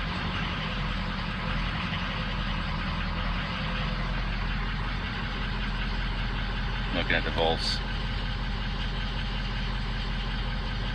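An erratically idling 2003 truck engine in a 2004 King Ranch rumbles low and steady while someone talks over it.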